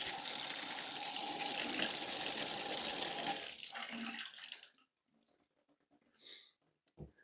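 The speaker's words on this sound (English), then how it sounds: "I'm going to turn on the water and see how it flows." A bathtub tap pours in a steady, hissing rush for a few seconds before shutting off, leaving faint trickles and drips into the drain, then a couple of soft knocks and a brief sniff.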